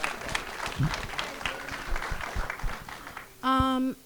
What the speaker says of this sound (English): We give a round of applause for that.